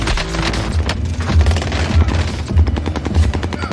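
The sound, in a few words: gunfire in a video game shooter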